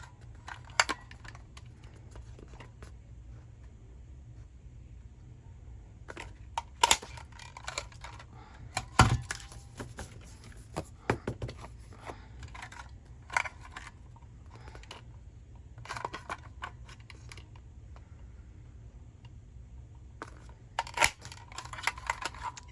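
Paper sheets for a 6 x 6 interactive journal project being cut to match a folded guide: scattered sharp snips and clicks at irregular intervals over a soft steady background hum, close and fairly quiet, no voices.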